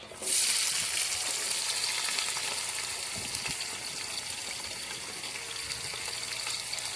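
Onions hit hot oil in a pan for quail dum biryani, bursting into a loud hiss that settles into a steady, close sizzle with faint stirring.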